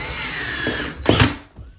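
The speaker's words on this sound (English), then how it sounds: "Get that screw point right on your X and drill it in." A power drill whirs briefly, driving a screw into a wall anchor, rising in a short burst near the end before cutting off, close by with no talking.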